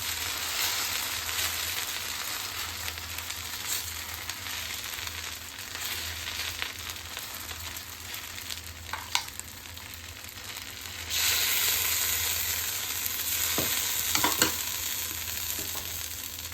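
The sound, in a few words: masala dosa sizzling on the pan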